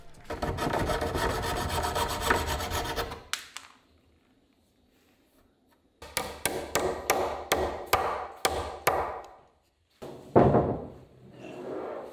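Sandpaper rasps against wood in a long continuous stretch, then after a pause in short repeated strokes, close and distinct.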